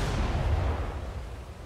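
Heavy naval gunfire from a Fletcher-class destroyer in War Thunder, a continuous low rumbling boom and roll of blasts sustained through the moment, with no voices.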